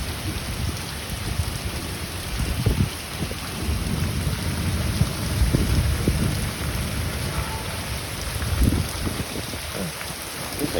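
Heavy rain pours steadily, a dense constant hiss with low rumbling thunder underneath and no voices.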